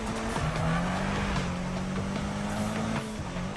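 A car in a Need for Speed police chase on PS4 roars off hard, engine pitch holding steady with tire squeal and skidding mixed in, loud and close throughout.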